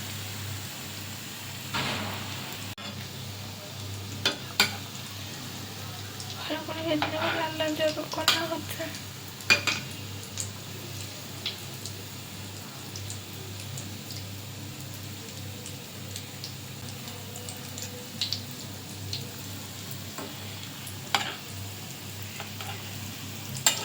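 Soft crackling of vegetable chops deep-frying in oil over low-to-medium flame, fairly faint, with occasional clinks of a utensil against the pan.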